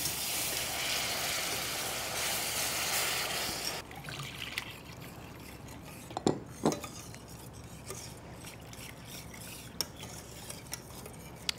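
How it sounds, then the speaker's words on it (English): Milk is whisked into a flour sauce in a pot, giving a busy, steady scraping swish at first, then quieter liquid stirring with occasional sharp clinks of the whisk against the metal. "Then you whisk in the milk gradually."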